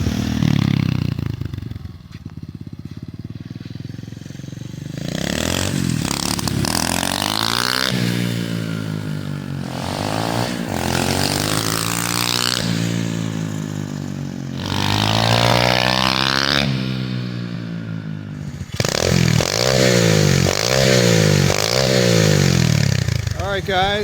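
An SSR 125cc pit bike engine revs hard again and again, each loud blip climbing and falling back to a rough idle, close up and continuous throughout.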